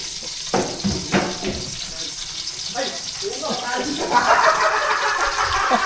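Water runs from a tap, building into a steady broadband rush in the second half, with some clattering and a voice partly under it.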